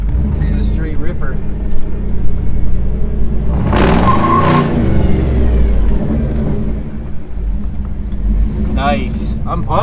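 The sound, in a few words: shop truck engine revving while driving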